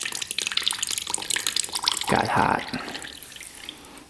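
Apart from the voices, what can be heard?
coolant draining out of a 2-stroke dirt bike engine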